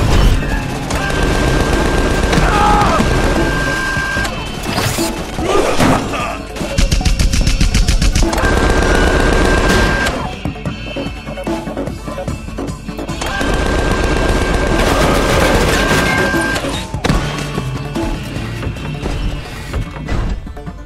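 A combat robot in Tales from the Borderlands opens up with loud, sustained machine-gun bursts mixed with crashing impacts and booms, several long volleys separated by short lulls, close and overpowering.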